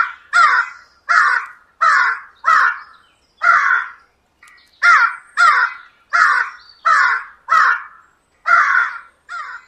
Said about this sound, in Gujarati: પપ્પુ કાગડાનો સતત અવાજ સાંભળીને વાઘ અટકી ગયો.